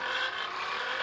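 A Bullet motorcycle engine in a video game drones steadily and evenly through a short stretch, with no pauses.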